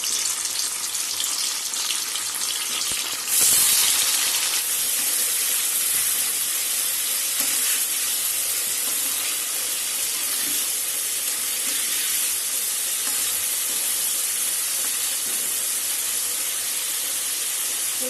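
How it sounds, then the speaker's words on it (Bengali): Paneer pieces frying in hot oil in a pan, a steady close sizzle and hiss throughout that swells loudly when more pieces go in, then settles into continuous spattering. "আমি এই পনিরটা এটা লাল লাল করে একটু ভেজে নেবো।"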